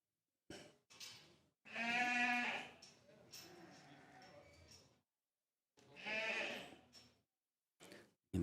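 Sheep bleating at a Poll Dorset ewe championship show, several loud wavering bleats in separate bursts with short quiet gaps, close by, with no talk over them.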